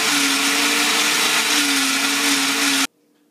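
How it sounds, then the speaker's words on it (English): A Ninja blender runs loudly and steadily, whirring chickpea hummus until smooth, its motor holding one constant pitch before cutting off abruptly to near silence. "now we're just going to blend this up until it is all smooth"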